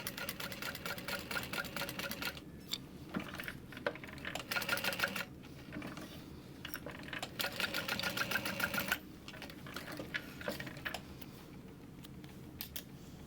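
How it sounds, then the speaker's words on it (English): Sewing machine top stitching around the outer edge of a fabric hip bag, a steady close mechanical whir in several bursts separated by short pauses. "Top stitch around the outer edge."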